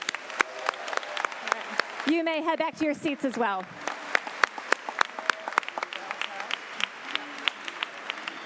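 Scattered applause for scholars at a high school convocation, with sharp individual claps ringing out in a hall while someone speaks briefly over them, the clapping continuing unevenly after he stops.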